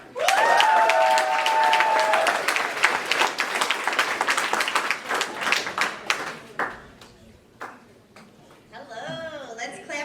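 Comedy show audience applauding and cheering loudly as the next comic is introduced, a dense burst of clapping that gradually thins out and fades, with a voice starting to talk near the end.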